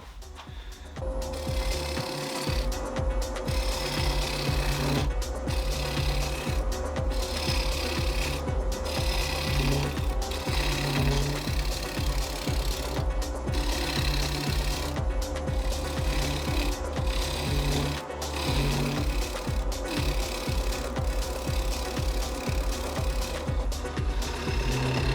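A lathe turns a big green, live-edge bowl of what may be maple. A tool scrapes and rasps rhythmically against the spinning wood over a steady motor drone, close and continuous, with repeated short pauses.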